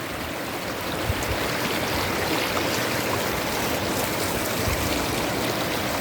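A clear, shallow, rocky river about seven metres wide flows past rice fields, giving a steady, close babbling and rushing wash that holds even and unbroken throughout, with no voices.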